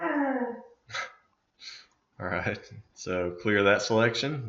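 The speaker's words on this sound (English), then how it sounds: "If you hear that noise, that is my dog." A pet dog gives a few short yips and whimpers in a quiet room, then someone talks while a couple more faint dog noises come between his words.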